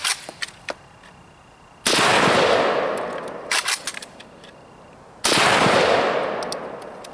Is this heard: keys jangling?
no